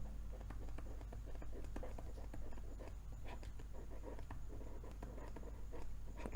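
A pen scratches out the Pythagoras theorem by hand on paper during a class 10 trigonometry lesson. The strokes are quiet, close and irregular, with faint breathing or low murmuring beneath.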